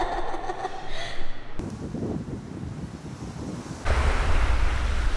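Strong wind roars and buffets the microphone by the sea at Placencia, Belize, with crashing surf beneath; the gusts swell and shift, loud and close, with no talking.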